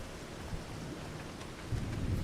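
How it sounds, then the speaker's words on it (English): Water pours steadily into a tank in the Farming Simulator 25 video game, a broadband rushing wash that swells louder near the end, with no talk. "Okay, we should hear the water going in."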